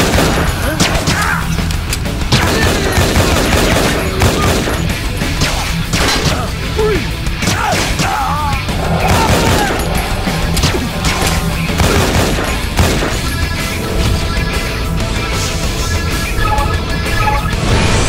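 Intense gunfire from the Infernal video game, a dense, continuous fusillade of loud shots mixed with crashes and booms, running without pause throughout.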